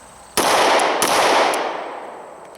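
Two sharp, loud shots from a Glock 23 Gen 4 .40 S&W pistol fired at a target, about two-thirds of a second apart, each leaving a ringing, decaying echo outdoors.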